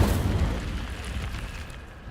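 Incendio fire spell cast in the video game Hogwarts Legacy, a short rumbling fiery burst that is loud at the start and fades over about two seconds, heard alone.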